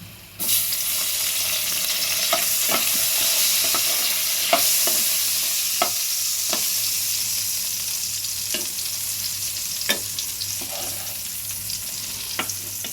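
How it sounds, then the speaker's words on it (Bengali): Eggplant pieces seasoned with turmeric fry lightly in hot oil, a loud steady sizzle punctuated by sharp scrapes and taps of a spatula stirring the pan. "চলো বেগুনটা ভাজা হোক।"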